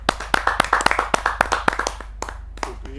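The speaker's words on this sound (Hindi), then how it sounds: "तालियों से स्वागत करते हैं।" A small audience at a Hindi poetry gathering applauds to welcome a poet, with a dense run of close hand claps that thins out into a few scattered claps over a low hum.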